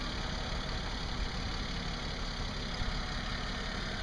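A 1990 Mercedes-Benz 300 CE engine idles steadily and evenly, a smooth continuous rumble close by with no voices.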